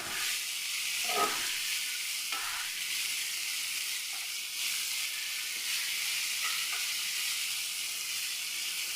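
Onions fry in a pan with salt added, giving a steady, close sizzle throughout. Now and then a spoon scrapes and stirs, and no one speaks.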